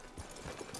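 Horse hooves clip-clop in a video game, with a quick, soft run of hoofbeats under dense game ambience and noise.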